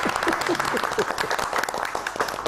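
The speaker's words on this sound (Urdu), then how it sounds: "جی اس پہ آپ کو تالیاں بھی بجانی چاہیے۔" Studio audience applauding on a Pakistani political comedy talk show, a steady wash of clapping that fills the room, with voices faintly mixed in underneath.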